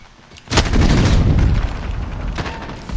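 Call of Duty multiplayer gunfire on the Shipment map, a sustained burst of loud, close automatic shooting that starts sharply and tapers off, with a further shot near the end.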